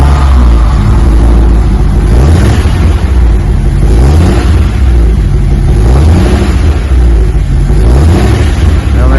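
A 1959 Ford Thunderbird V8 fitted with Flowmaster FX mufflers revs loud and close, its deep exhaust swelling in repeated surges over a steady rumbling idle with a slight putter.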